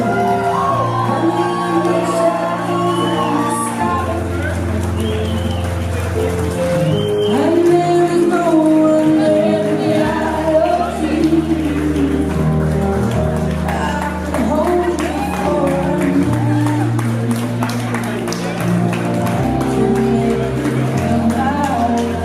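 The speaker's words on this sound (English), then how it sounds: "Let's keep those applause going, ladies and gentlemen." Wedding guests applaud and cheer for the couple, Katelyn and James, with sustained clapping, shouts and whoops from a crowd over music playing in the background.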